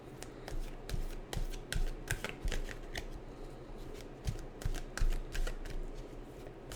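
A deck of tarot affirmation cards is shuffled by hand close up and quietly, giving rapid riffling bursts and crisp flicks in an uneven rhythm with no talking.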